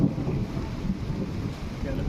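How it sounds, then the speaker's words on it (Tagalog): Strong gusts of wind blow outdoors after a typhoon, a steady low roaring rush buffeting the microphone throughout, with no clear speech. "Biglang lakas ng hangin ngayon oh."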